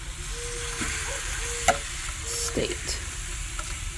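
Steaks cooked well done on an outdoor grill sizzle in a soft, steady hiss, with a sharp metallic click and a few light scrapes partway through; a brief word is spoken.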